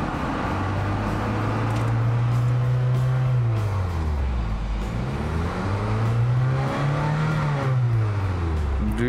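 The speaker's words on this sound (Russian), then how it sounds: "Двигатель работает отлично." A SAAB turbo engine with only 54,000 km on it runs close by, its steady mid-pitched drone rising and falling through two smooth revs, alone with no talk.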